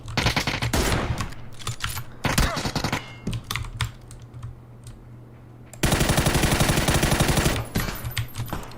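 Gunfire in PUBG rattles in loud, rapid automatic bursts, with a long sustained volley near the end, mixed with clattering keyboard keys and occasional voices.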